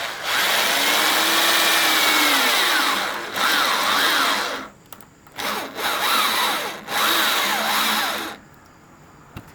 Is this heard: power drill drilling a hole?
yes